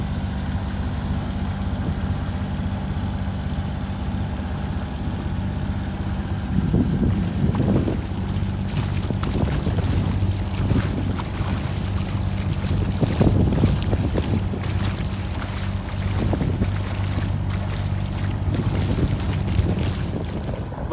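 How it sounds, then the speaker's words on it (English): A sailboat motor-sailing out of an anchorage on the Strait of Juan de Fuca in winter, with a steady low engine drone and broadband wind and water rush throughout, thumps of hull and wind gusts growing in the second half, no talking. "Motor sailing out of that anchorage."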